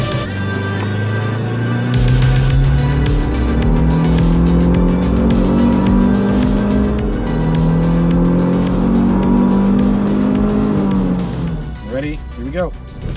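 A 2012 Mazdaspeed 3 pulls hard in third gear from 3,000 RPM, the engine climbing steadily and loudly for about eleven seconds before backing off near the end.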